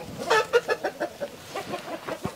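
A fighting rooster on a breeding farm gives a series of short, rhythmic clucks and throaty calls, close and fairly loud, with no other sounds around.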